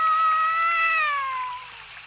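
A cat meows once in a long, drawn-out cry that slides gently downward and fades toward the end, heard up close with no talking.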